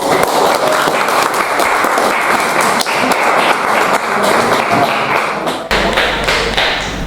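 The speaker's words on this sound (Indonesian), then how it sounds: "Coba tepuk tangan dulu" Students clap for a classmate during a teaching-practice lesson in a classroom, a dense, steady burst of applause that stays loud and close for about seven seconds.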